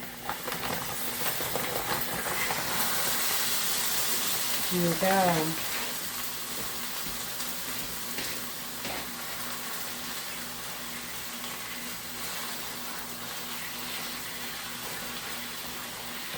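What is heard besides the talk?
2 pounds of beef sizzling in a hot skillet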